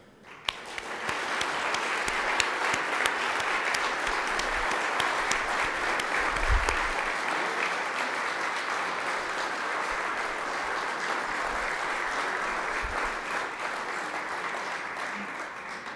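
An audience at a college homecoming event applauds award recipients, sustained clapping from a large crowd that swells quickly and holds steady for many seconds before easing slightly.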